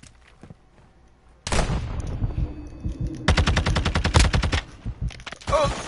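Bursts of automatic gunfire in Modern Warfare 2, a sustained rapid rattle of shots loud and close, with brief pauses between volleys over game ambience.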